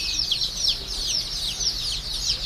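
Chickens on a poultry farm of about 200 birds, a farm that also raises turkeys, keep up a continuous high, rapid cheeping and peeping, many birds overlapping at close range with no talking.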